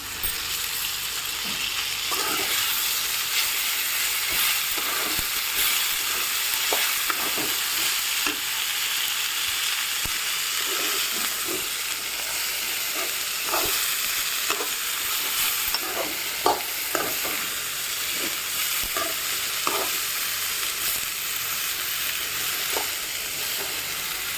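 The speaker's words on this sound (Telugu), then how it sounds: "బాగా ఫ్రై చేసుకోవాలి" Food frying in a pan with lentils added, a loud continuous close sizzle with scattered stirring scrapes and clicks running throughout, no talking.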